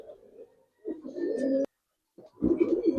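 Hericale pigeons coo at close range in two short, low bursts of throaty cooing separated by a brief silence, with a faint chirp in between.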